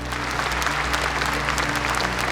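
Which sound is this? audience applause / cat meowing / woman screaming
audience applause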